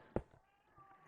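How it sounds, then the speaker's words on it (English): A pet cat lets out one short, faint meow in the background of a quiet room, followed by near silence. "that's my cat."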